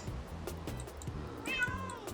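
A Minecraft cat meows once amid rhythmic game music and sound effects, the meow short and clear over a steady beat.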